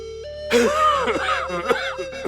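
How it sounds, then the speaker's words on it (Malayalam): A rough, raspy cough bursts out a few times close by, over a steady background hum. "ആഹാ ഗംഭീര ചുമയാണല്ലോ"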